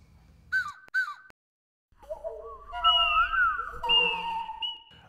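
Flutes mimic bird calls for an animated film's afternoon ambience, with short chirping whistles, a pause, then overlapping warbling and sliding notes over a soft low rumble.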